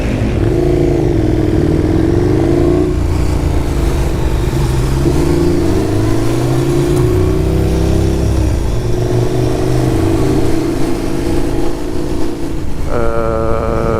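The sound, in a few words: KTM 1290 Super Duke motorcycle riding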